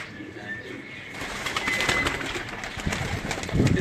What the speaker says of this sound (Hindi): ये देखिए ये तमाम तर कबूतर लाल परी कबूतर है।